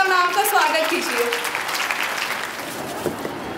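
An audience at a women's college festival applauds to welcome a speaker. The clapping is dense and continuous from the start, fading slightly over a few seconds, with a voice speaking over the first moments.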